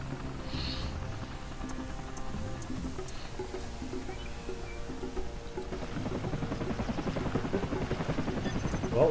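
A Comanche attack helicopter from Rise of the Reds hovers with a continuous rotor drone, mid-distance, amid battle noise and scattered gunfire in a real-time strategy game.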